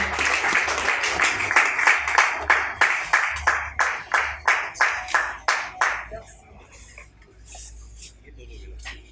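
Clapping for Madame Chantal Yebi as she receives gifts at a women's league closing ceremony, a steady, fairly close rhythm of handclaps for about six seconds before thinning to a few scattered claps.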